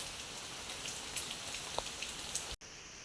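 Rain falls steadily outdoors, a soft, even patter of drops on surfaces heard alone and at low volume, briefly cutting out near the end.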